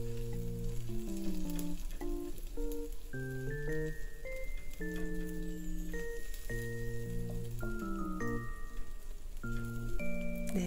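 A vegetable omelette fries in a home kitchen pan, giving off a steady, even sizzle under continuous background music.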